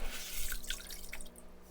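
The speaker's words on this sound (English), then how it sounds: "letting it siphon through my hands, the water, and just putting it right back into the tank" Aquarium water runs through cupped hands and splashes back into a tank while gravel is being replaced, a soft, steady trickling with faint drips throughout.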